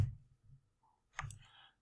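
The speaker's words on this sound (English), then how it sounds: "I'm going to go ahead and hit S on my keyboard again." A single computer keyboard key is pressed, giving a soft, short click near the close, with faint low handling noise before it.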